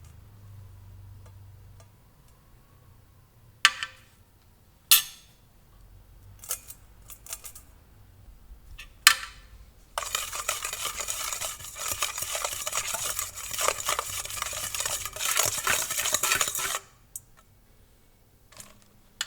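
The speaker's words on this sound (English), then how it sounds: "In a large bowl, whisk together olive oil and salt to taste" Olive oil and salt are whisked in a large bowl: a few isolated clicks and taps, then several seconds of steady, bright metallic scraping and stirring that stops abruptly.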